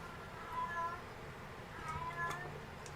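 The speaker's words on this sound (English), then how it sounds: "My cat wanting to get into my dad's room." A cat meows at a door, wanting into a room, giving two separate drawn-out calls about a second apart, moderately near over a low background hum.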